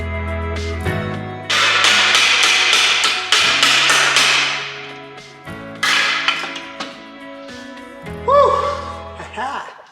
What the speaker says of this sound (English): Next up was the crash box, which I just cut off with my angle grinder and a bit of convincing with the hammer.